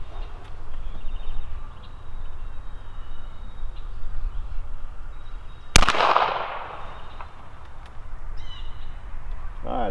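A single sharp gunshot from a Henry Model X lever-action rifle chambered in .357 Magnum cracks loudly mid-clip and rings off into a decaying echo over a quiet outdoor background.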